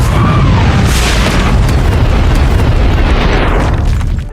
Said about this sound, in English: a loud explosion shakes the forest